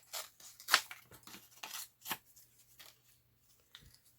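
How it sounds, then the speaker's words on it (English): Paper is torn by hand for Christmas journal labels and tickets, making several quiet, short ripping strokes close by, with no talking. "So I'm just ripping it."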